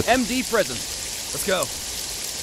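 Heavy rain pours steadily at night in the video game Jagged Alliance 3, a constant dense hiss throughout, with someone talking over it.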